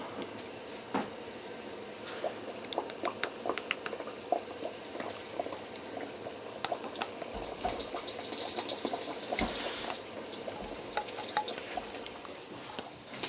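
Koonday dough drops into hot oil and fries with a steady bubbling sizzle and scattered crackles and pops, close by and fairly soft, with no talk over it.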